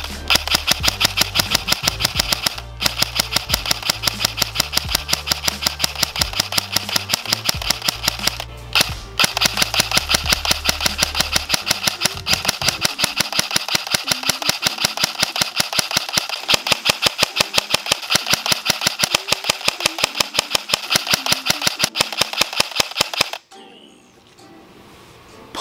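Classic Army VCW airsoft rifle firing on semi-auto with no noise amplifier fitted: a long run of sharp, rapid, evenly spaced clicking shots, close and loud, over a low motor whir, ending abruptly.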